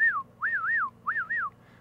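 A person whistles to imitate a bottlenose dolphin's signature whistle, repeating the same rising-and-falling wavy phrase about three times in clear, close bursts with short gaps and no speech.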